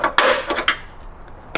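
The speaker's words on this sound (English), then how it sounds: "We'll go ahead and make the punch right in the middle." A center punch is struck on a Toyota Tacoma to mark a guide hole for drilling: a few sharp metallic taps, one main hit followed by lighter knocks, close and loud.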